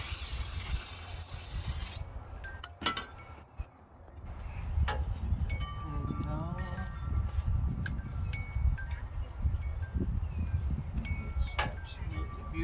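Product spritzed onto the engine of a 2019 Chevy Camaro during a thermostat job, a loud hissing spray burst at the start, then softer hisses, clinks and rubbing sounds in a garage, with some low voice.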